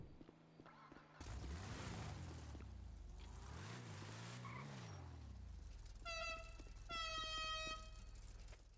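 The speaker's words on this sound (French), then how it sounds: "le klaxon par contre" A car horn honks in a couple of sustained blasts, loud and close, over a steady rumbling engine-like background.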